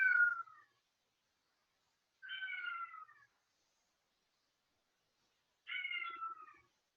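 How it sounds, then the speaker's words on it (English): A house cat meows three times from another room, each call a short falling wail spaced a couple of seconds apart, fairly faint and distant with silence between. "You might hear a cat in the background."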